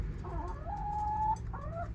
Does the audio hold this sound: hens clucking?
yes